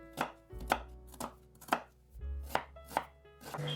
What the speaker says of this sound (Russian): И также сразу средними кубиками порежу крупную луковицу